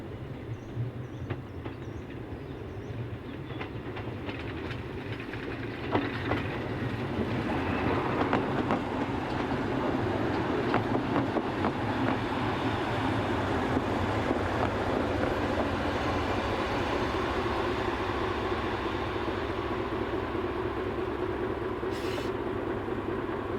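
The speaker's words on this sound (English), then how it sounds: "number 4702 drifts into the station with the 856 from Montchanin to Châlons service" Train number 4702 drifts into a station, a continuous rumbling roll of wheels on track with engine drone that grows louder and fuller partway through, steady and close.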